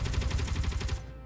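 Gatling guns and assault cannons on a fighter spaceship firing in Space Engineers, a rapid, dense, rattling stream of shots with deep thumps that cuts off abruptly, with no talk.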